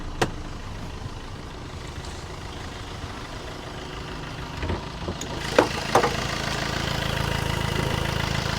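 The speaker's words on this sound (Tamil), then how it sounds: "வண்டியோட இன்ஜின் நம்ம ஸ்டார்ட் பண்ணிட்டோம்." A 2015 Tata Zest XMA diesel automatic car engine runs at a steady idle after starting, a continuous close rumble with a few brief clanks and knocks near the end.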